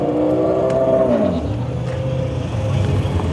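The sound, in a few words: red Nissan Skyline R34 GTR engine revving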